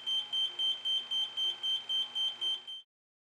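An electronic leak detector used to trace an engine oil leak emits eleven quick, evenly spaced high beeps over under three seconds, clear and close, then stops.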